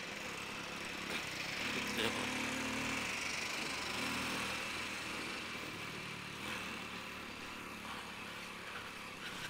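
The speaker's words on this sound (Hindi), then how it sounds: "सर्विस करवानी पड़ेगी मेरे को इसकी, बहुत दम तोड़ती हुई चल रही है बाइक।" A Hero Splendor Pro motorcycle engine idles roughly and unevenly while in need of service, a steady close buzzing drone with slight sputters and surges throughout.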